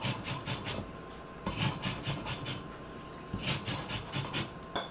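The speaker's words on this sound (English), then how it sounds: "I'm just gonna zest this right into the sugar" A lemon is scraped against a microplane grater over a bowl of sugar, giving soft raspy bursts of quick strokes in short runs with pauses between, close and fairly quiet.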